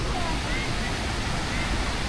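Continuous broadband rushing of surf on a beach at Da Nang, Vietnam, a steady roar of breaking water close by with no distinct individual waves.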